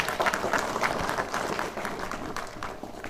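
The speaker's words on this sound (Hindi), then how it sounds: "जोरदार तालियां हाजी साहब के लिए" A retirement gathering's audience claps for Haji Sahab, a short burst of moderately sized applause with distinct individual claps, close and lively, fading slightly toward the end.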